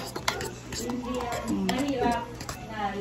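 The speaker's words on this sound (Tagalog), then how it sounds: "Then continue to mix." Pancake batter is stirred in a bowl after water is added, with a utensil scraping and clinking against the dish while people talk nearby.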